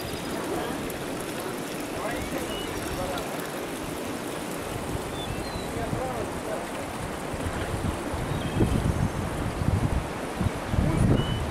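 Cold mineral spring water runs and trickles in the Narzan Valley at Kislovodsk, a steady close babbling flow with wind noise on the microphone, growing slightly louder toward the end.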